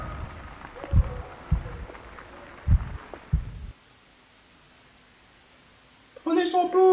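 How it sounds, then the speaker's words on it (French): A slowing heartbeat in the Call of Cthulhu video game thumps as deep, low beats about every second, fading out after several beats; near-silence follows and a voice begins speaking at the end. "les battements de cœur qui se ralentissent"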